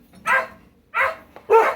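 Several dogs at their new home let out three separate barks, sharp and close, spaced roughly evenly with quiet gaps between.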